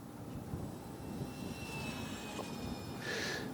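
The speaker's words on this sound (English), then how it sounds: "Let's do a high-speed pass here." Small UMX P-51 Mustang RC warbird making a full-throttle high-speed pass outdoors in light wind, a thin electric motor whine rising and sweeping in pitch over wind rumble, growing louder near the end.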